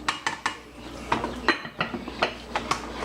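A cooking utensil folding shrimp in tamari sauce around a pan, a run of sharp metallic scrapes and clinks in an uneven rhythm, close and fairly loud, with no talking.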